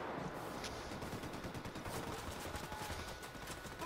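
Rapid gunfire from Ghost Recon Wildlands rattles faintly and steadily within a dense, noisy jungle firefight backdrop.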